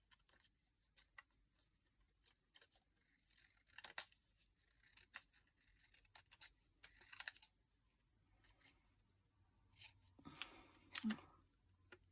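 Scissors snip through paper and card while a paper tag is cut out during a crafting session, giving a quiet run of short, irregular cuts and rustles with small pauses, close up and alone without voices.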